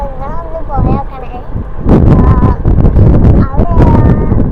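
Strong wind buffets a microphone outdoors, rumbling low and loud in gusts that grow heavier after the first couple of seconds, with a voice heard faintly near the start.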